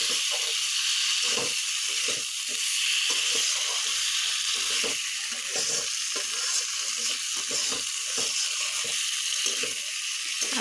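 Kohlrabi, potato and shrimp curry sizzles in a pan with a bright steady frying hiss, broken by repeated scraping stirs of a spatula.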